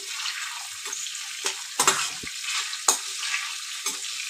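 Eggplant curry with turmeric stirred in a frying pan, a steady bright sizzle of oil broken by several sharp scrapes and clacks of the spoon against the pan, close and alone.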